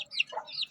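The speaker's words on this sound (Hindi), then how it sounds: "ये जो है हमारी ये दूसरी फुलिया मादी है जो सेम कलर की है, और इसके अल्हम्दुलिल्लाह 6 चूज़े हैं इसके साथ।" A mother hen with six chicks gives soft, close clucks, a couple of short calls in quick succession.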